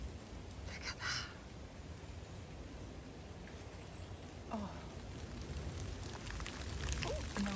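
Rain falls through a forest with sunlight breaking through, making a soft, steady patter and hiss throughout, while a voice briefly exclaims.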